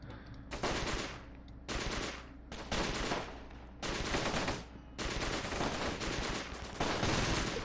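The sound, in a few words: gunfire from defending troops in Close Combat video game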